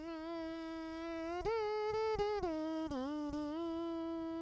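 Human voice imitating a trumpet with the mouth as a vocal layer in an Arabic future house track, a single sustained brassy buzzing line that bends and slides between pitches, with a few sharp clicks, up close and alone.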